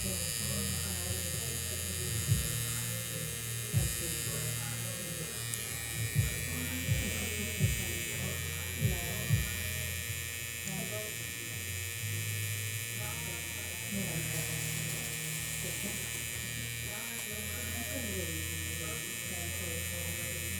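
Tattoo machine fitted with a 12-gauge nine-round liner needle, buzzing steadily throughout with a constant electric hum and occasional soft ticks, close and moderately quiet.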